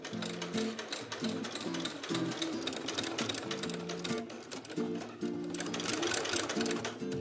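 A sewing machine stitches the lining of a 70s-style denim jumpsuit along the neckline, running in a steady, close, rattling whir with quick stops and restarts and a short pause about two-thirds through.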